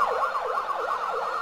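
Wailing ambulance siren during a military parade on a waterfront boulevard, its pitch sweeping up and down in a steady repeating cycle, loud and unaccompanied by talk.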